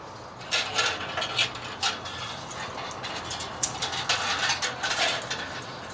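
A screw driven in by hand during a bird-deterrent fix at home, faint irregular ratcheting clicks and metallic turns repeating over several seconds against quiet room noise.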